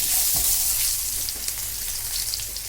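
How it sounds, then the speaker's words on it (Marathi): Bangda mackerel fish fries in a pan with a steady, loud, close sizzle that continues without pause, and no one speaks. "दुसऱ्या साइडनी पण आपला फिश व्यवस्थित असा भाजलेला आहे।"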